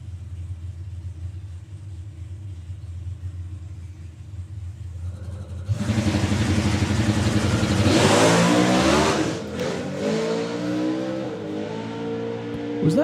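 A drag racing car sits with a deep idling rumble, then launches with tyre spin at very high RPM, the engine suddenly roaring loudly with a climbing whine for several seconds before easing off.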